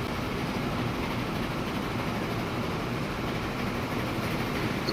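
Steady rumbling train noise from Transport Fever 2, a broad continuous hum of rail traffic that stays even and fairly loud throughout with no talk over it.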